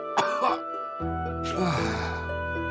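A character in the video game Radiant Historia lets out a short burst of coughing followed by throat clearing, heard over steady background game music.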